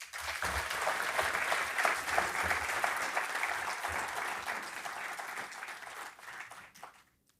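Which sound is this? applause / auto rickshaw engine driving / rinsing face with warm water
applause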